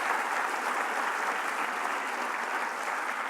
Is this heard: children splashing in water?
no